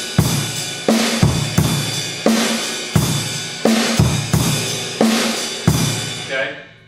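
A rock beat played on a drum kit: steady kick and snare hits in a repeating pattern with cymbal wash on top, loud and close, about seven seconds with no talking.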